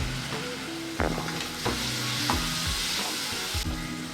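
Tomatoes and turmeric stir-fry in a hot pan for a bitter gourd dish, a steady close sizzle broken by several sharp scrapes of a spoon against the pan.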